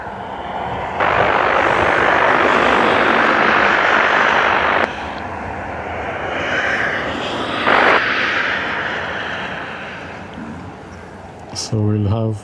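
An ATR turboprop on final approach to Dublin Airport gives a loud, steady engine drone that swells and shifts as it passes, with brief clatter near the end.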